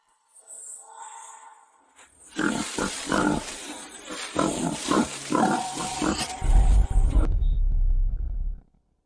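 A large wild boar grunts and snorts in deep, rough bursts, loud and close, building into a heavy low rumble near the end, with some voice-like noise mixed in.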